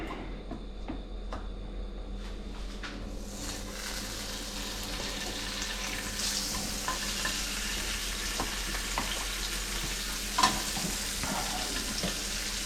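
Dhufish fillets fry in a pan with butter and a little oil, giving a steady, soft sizzle that swells slightly after a few seconds and continues evenly, with a faint clink near the end.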